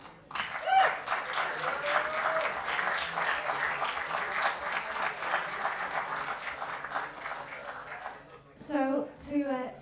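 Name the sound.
open mic audience applause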